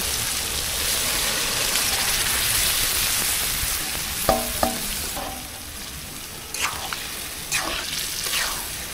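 Boiled chana dal stir-fried with spices in a pan sizzles and hisses steadily up close, with a few sharp clinks and scrapes of a spoon stirring toward the end.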